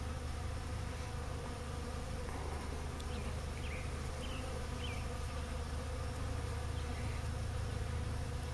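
Dense, steady buzzing of many bees swarming at a hive entrance close by, a continuous drone with occasional individual insects passing nearer.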